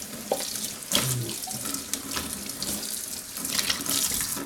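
Dishes being washed up in a kitchen sink after a meal of Moroccan lamb and jacket potatoes, with a tap running steadily and irregular splashes, clinks and scrubbing close by throughout.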